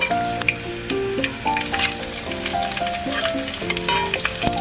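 Garlic and onion frying in hot oil, a steady close crackling sizzle with popping spatters throughout, under a loud melodic music bed, with no talking.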